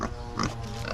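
A pig on a rural farm gives short low grunts, fairly quiet and close, within a single second.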